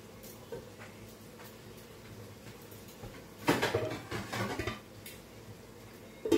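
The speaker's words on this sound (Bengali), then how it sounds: "দিয়ে দিলাম ডাকনাটা" A metal lid clatters onto a cooking pot of spiced curry on low gas, a short loud clanking burst near the middle followed by a brief rattle, over quiet kitchen background.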